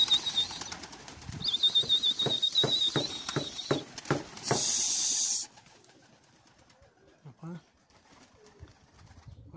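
Pigeons take off with several bursts of rapid wing flapping, loud and close, followed by quieter fluttering and a few soft coos.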